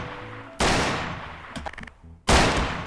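Two sharp, loud gunshots in the video game Garry's Mod, each a single punchy crack with a short decaying tail, separated by brief quiet clicking.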